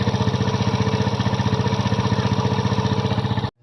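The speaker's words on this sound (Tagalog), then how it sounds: "kapag ganitong tunog talaga guys, marinig nyo sa inyong makina, ang problema nyan ay connecting rod" Kymco Visar 110 scooter engine running steadily with a rapid, rhythmic connecting rod knocking clatter throughout, loud and close, stopping abruptly at the end.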